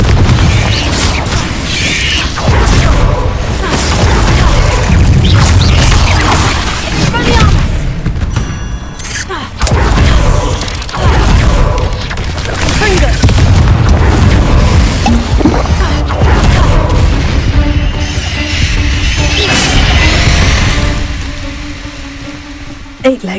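Confringo fire spell blasts in Hogwarts Legacy, a near-continuous barrage of heavy booms and crashing impacts thundering through most of the stretch before easing off, with a voice shouting spell names over the fight.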